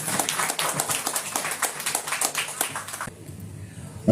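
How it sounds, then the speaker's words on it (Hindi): Applause for two guests on stage at an award ceremony, dense rapid clapping from a crowd lasting about three seconds before cutting off abruptly. "दोनों के लिए मैं चाहूंगा कि जोरदार तालियां इनके लिए"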